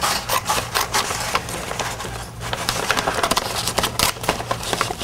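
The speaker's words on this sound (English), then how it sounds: "You'll look for the seam on the back of the bag, and that's the seam that you're going to first cut." Scissors snip and rasp through a paper grocery bag along its back seam for a book cover craft, giving a run of close, crackly cutting and rustling strokes with a brief pause midway.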